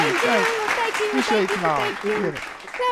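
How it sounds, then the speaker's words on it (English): A brief canned studio-audience applause effect plays from a phone, with light clapping running under several people talking and laughing nearby. "Wait, I think I got a clapping thing."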